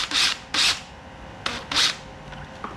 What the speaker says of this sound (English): You just put a screw on your driver and drive it in there.